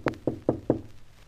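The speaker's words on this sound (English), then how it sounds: "Knock gently, my dear." Four soft, evenly spaced knocks on a door, close and gentle, with nothing else heard.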